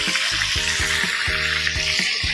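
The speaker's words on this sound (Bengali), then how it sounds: "এগুলো কিন্তু ঢেকে ভাজা যাবে না, তাহলে পটল খুব নরম হয়ে যাবে আর গোটা গোটা থাকবে না।" Pieces of pointed gourd (potol) fry uncovered in oil with a loud, constant crackling sizzle, broken by intermittent low droning bursts.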